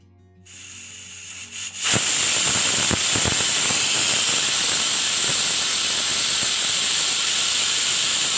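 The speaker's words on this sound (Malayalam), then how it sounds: "ഒരു രണ്ട് വിസിൽ വന്നപ്പോൾ കുക്കർ ഓഫ് ചെയ്തിട്ടുണ്ട്" After a quiet start, a loud, sustained steam hiss bursts out and holds steady, like a pressure cooker venting, with a few sharp clicks near its onset.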